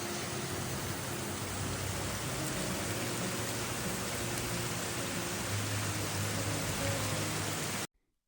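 Steady spring rain falling outside by a garden, a constant even hiss with a low rumble underneath that holds at the same level, then stops abruptly near the end.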